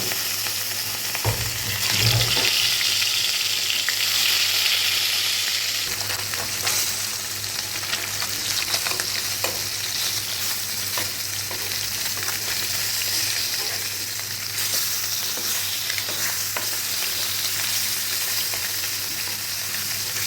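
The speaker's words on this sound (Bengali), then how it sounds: "মাছগুলো হালকা ব্রাউন কালার করে ভেজে নিচ্ছি।" Pieces of katla fish frying in a pan until lightly browned, giving a steady, loud sizzle throughout with an occasional sharper spatter and some faint clinks, with no talking.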